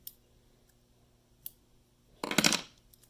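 Scissors make a short, sharp close-up snip, trimming excess foam and thread from a foam beetle fly at the vise, preceded by a couple of faint clicks in a quiet room.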